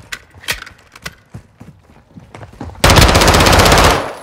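Sustained automatic gunfire from Call of Duty Modern Warfare bursts in loud and dense near the end, following scattered sharper shots and impacts in a multiplayer match.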